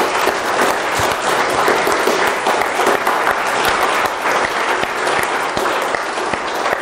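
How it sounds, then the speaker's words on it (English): Sustained audience applause at a live science censorship event, dense and even clapping from a full room that holds steady at strong volume throughout. "let's give them all a hand of applause."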